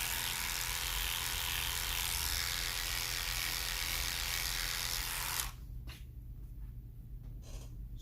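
An electric hair clipper with a detachable blade cuts hair clipper-over-comb in a barbershop, a steady loud motor buzz for about five seconds before it switches off, followed by faint snips and rustling.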